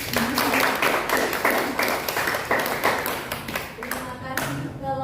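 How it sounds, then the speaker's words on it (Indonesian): A high-school class claps for a student group, a fairly loud, continuous round of handclaps close by with some voices mixed in, tapering off toward the end. "Lupa ya tadi memberi tepuk tangan untuk kelompok terjam juga"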